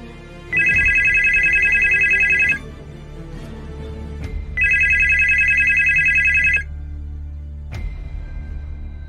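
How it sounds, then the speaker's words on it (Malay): Two long bursts of a trilling electronic telephone ring, separated by a pause, loud and close as a sound effect in a Malaysian horror audiobook, with brief clicks between. "Telefon itu masih berdering walaupun wayarnya terputus."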